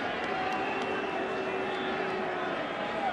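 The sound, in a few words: baseball stadium crowd cheering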